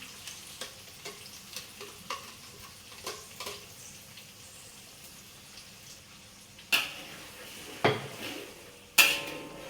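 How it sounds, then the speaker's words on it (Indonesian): Blended spice paste for a homemade fried noodle dish sautés in a pan, a soft steady sizzle broken by repeated scrapes and clanks of a utensil against the pan, a few louder metallic knocks near the end. "Saya lanjutkan dengan menumis bumbu-bumbu yang sudah saya blender tadi"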